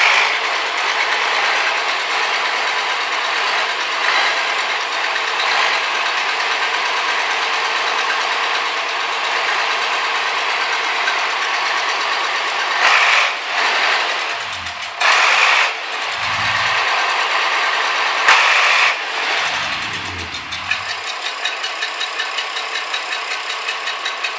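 An old diesel tractor engine running away on its own, a steady loud mechanical clatter and knock held for the whole stretch, with a few brief low thumps and surges near the end.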